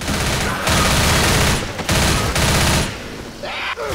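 Sustained rapid gunfire in the zombie shooter game Left 4 Dead, a dense loud fusillade of overlapping shots with brief breaks, close and continuous, without audible talk.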